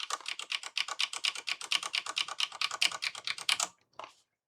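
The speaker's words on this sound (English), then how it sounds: "You can hold it down, and as you see, it destroys and backspaces at the same time." Backspace key held down on an 838-MX99 keyboard for the TI-99/4A, giving a rapid, steady burst of close, crisp key clicks for over three seconds before stopping abruptly.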